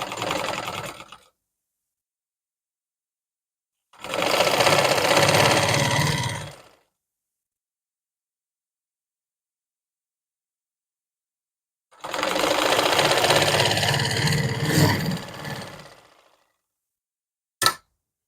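A sewing machine stitches a palazzo pocket in three separate close bursts of fast, steady mechanical whirring, each a few seconds long with silent pauses between, ending with a brief click.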